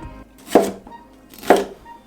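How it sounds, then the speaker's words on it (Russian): A knife slicing strips of red and yellow bell pepper lengthwise on a cutting board, two crisp separate cuts about a second apart, close and clear in a quiet kitchen. "Каждый кусочек разрезаем вдоль."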